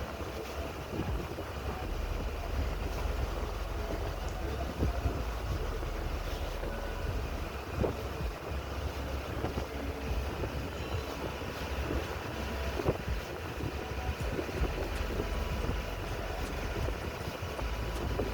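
A passenger launch cruises across open water from Namkhana toward Benuban, its engine drone and water rush blending with steady wind buffeting the microphone in a constant, unbroken roar.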